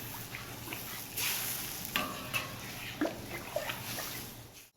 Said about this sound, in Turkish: Arkadaşlar suyumuz kaynadı